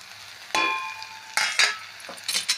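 A spoon scrapes and stirs spices into mixed vegetable bhaji in a pan, several short scraping strokes over a faint background sizzle, with no talking.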